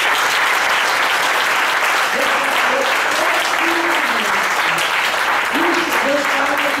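A church congregation applauds loudly and continuously, dense steady clapping filling the room throughout, with a few voices faintly mixed in.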